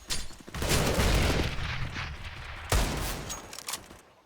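Desert Eagle pistol fire rings out during a Counter-Strike match on the Inferno map, heavy sharp reports at the start and again midway, each followed by a loud decaying blast.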